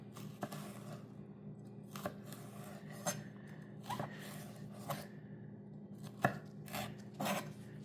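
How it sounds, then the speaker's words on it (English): A knife cuts jalapeno peppers into thin slices on a cutting board, with sharp taps landing about once a second against a low steady background hum and no talk. "We're just going to do thin little slices like so."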